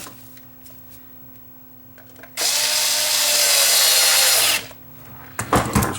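A power screwdriver drives a screw into the bottom of a Defeway D3108X DVR case: one loud, close whirring burst about two seconds long, framed by quieter handling clicks and rattles.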